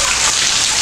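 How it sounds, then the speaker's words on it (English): Steady rain pours down outdoors at a fishing spot, a dense, loud, even hiss of drops hitting the surface without a break. "Getting rained on."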